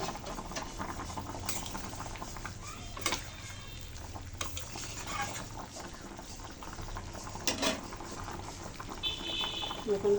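Egg curry simmering in a pot with a lid set on, a steady bubbling boil with soft patter throughout, fairly close, with a few clinks and brief speech-like sounds over it.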